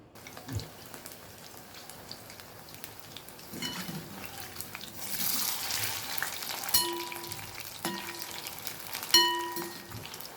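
Leftover rice frying in a pan with Aachi Chicken 65 masala gives a soft, steady sizzle with occasional crackles and stirring scrapes, fairly quiet and close.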